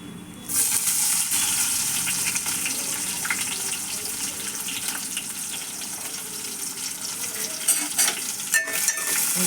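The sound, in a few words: onion and green chili frying and being stirred in a pan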